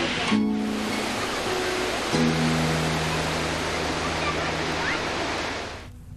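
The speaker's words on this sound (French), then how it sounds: "bruit de l'eau avec les cascades" Roar of the waterfalls at Ampefy, Madagascar: a steady, loud broadband wash of falling water running throughout, with a brief voice and tonal sounds near the start.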